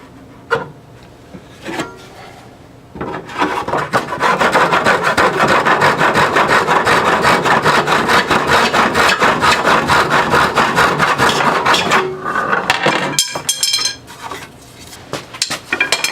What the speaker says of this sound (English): A little bit of light sanding on the end.